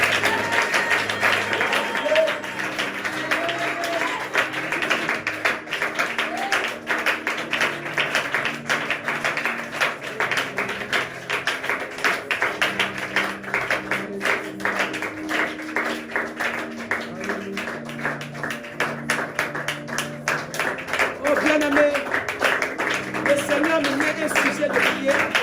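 A church congregation claps steadily during a French-language deliverance service, a rapid rhythmic patter of many hands lasting throughout, with music or voices underneath.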